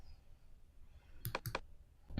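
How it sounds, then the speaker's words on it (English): A few quick, faint computer mouse clicks on a search button, two or three crisp taps close together against a quiet background hum. "So I'm going to go ahead and click a search on that."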